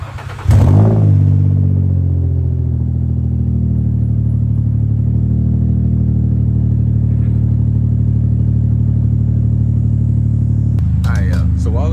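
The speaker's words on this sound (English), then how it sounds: "Let's experience what the G35 sounds like on the startup" An Infiniti G35 with a new aftermarket exhaust cranks and fires up, settling into a loud, steady idle rumble close by that holds for about ten seconds before a brief clatter at the end.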